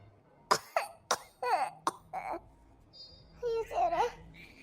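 An old woman with asthma coughs in several harsh, close bursts in quick succession, then gives strained, groaning vocal sounds.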